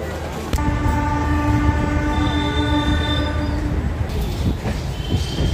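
A crowded local passenger train running between Banaras and Allahabad rumbles along steadily, with a long sustained horn blast sounding over the clatter of the carriages, heard from inside the train.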